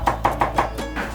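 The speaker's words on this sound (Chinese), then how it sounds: "大蒜撇破后剁成蒜米" A kitchen knife chops garlic into mince on a cutting board, making four evenly spaced sharp thuds in quick rhythm followed by a couple of softer strokes.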